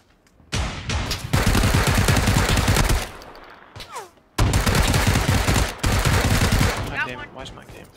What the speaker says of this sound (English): I hear him. He just loaded a five-way shotgun.